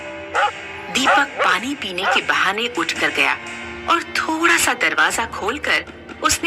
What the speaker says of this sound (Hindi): उसने किसी कुत्ते के भौंकने की आवाज सुनी।